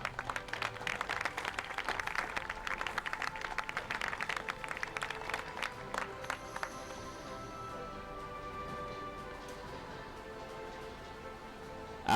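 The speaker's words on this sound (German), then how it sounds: "Unser Applaus für Emma und Sean." An audience applauds at a show jumping grand prix: dense, sustained clapping from a large crowd that gradually thins and fades out toward the end.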